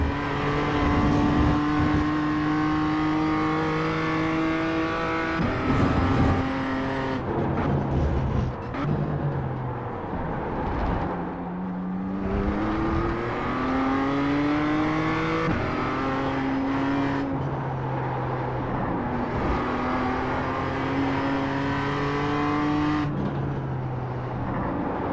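A BMW M2 CS racing car in the iRacing simulator at Laguna Seca, its engine droning loud and close, pitch climbing and dropping repeatedly through upshifts and downshifts with brief revving blips between gears.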